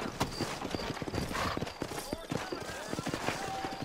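Horse hooves clip-clop steadily at a riding pace in the Red Dead Redemption video game, a dense, close rhythm that sits over a continuous background bed of game ambience.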